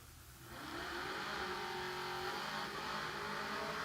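A Chevrolet S10 truck launches in a drag race at the King of the Shore event at US 13, its engine roaring up into a rising, strained rev and holding loud, with no talking.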